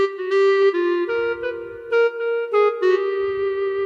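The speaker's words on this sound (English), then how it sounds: "that setup on number 8 is strictly a clarinet by itself" A keyboard clarinet voice plays part of a song, a solo reedy melody of short phrased notes with light accompaniment underneath, close and clear with no talking.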